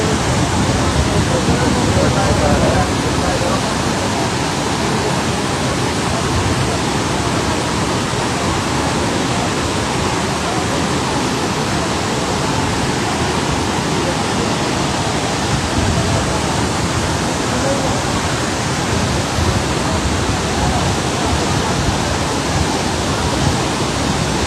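Floodwater from the Banas river rushes after heavy rain in Sawai Madhopur, Rajasthan, as a loud, constant roar of water with voices faintly underneath.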